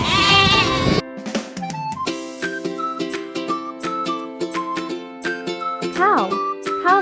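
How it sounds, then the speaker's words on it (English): Sheep bleat in a series of loud, wavering calls, close and repeated over a steady backdrop of layered tonal music, with one especially long quavering bleat at the start. "Sheep have thick, fluffy wool and graze on grass."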